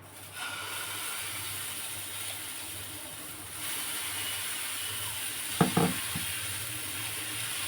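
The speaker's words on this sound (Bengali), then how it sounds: "মুড়োটাকে ভালো করে ভেজে নিচ্ছি" A fish head frying in a pan gives a steady loud sizzle and hiss close up, with a brief cluster of clattering scrapes near the end.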